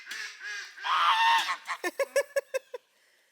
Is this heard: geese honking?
yes